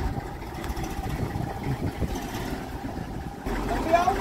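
A small Massey 35 tractor engine runs with a steady low, throbbing chug that grows a little louder and fuller near the end, with some voices faintly over it.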